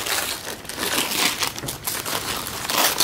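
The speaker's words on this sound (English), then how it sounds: "I should unwrap it." A Christmas present is unwrapped, with continuous close crumpling and tearing of wrapping paper that stays loud and busy throughout.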